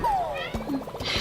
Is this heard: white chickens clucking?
no